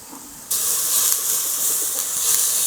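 Water poured into a hot pan of stir-fried canned fish bursts into a loud, sustained steaming hiss and sizzle that starts abruptly after a quiet moment and continues steadily.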